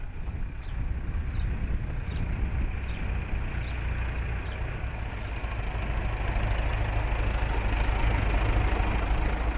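A tractor engine runs steadily at idle, close and loud, with a low rumbling throb and a faint knock that grows slightly louder toward the end.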